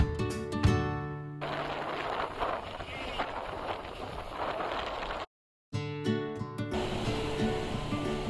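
Surf washes at Kala Pathar Beach in Havelock, a steady broadband rush of waves with wind buffeting the microphone and a faint engine hum, broken by a brief dropout partway through.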